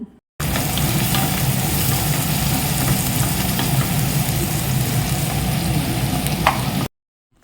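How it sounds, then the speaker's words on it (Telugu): Onions, green chillies and curry leaves frying in a pan for a Guntur-style brinjal coconut fry: loud dense unbroken sizzle for several seconds, with a low steady hum beneath, no voices. "ముందుగా కట్ చేసి పెట్టుకున్న ఆనియన్ పచ్చిమిర్చి కరివేపాకు యాడ్ చేసుకుని ఆనియన్స్ బాగా మగ్గేంత వరకు ఫ్రై చేసుకోవాలి"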